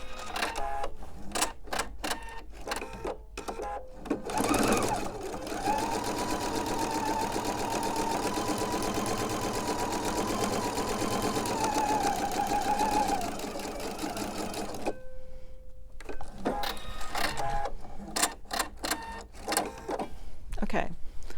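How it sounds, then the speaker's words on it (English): A sewing machine stitches along both sides of a marked line on quilt half-square triangles, a steady motorized whir running about ten seconds, set between shorter start-stop bursts and handling clicks. "I'm going to sew on the other side."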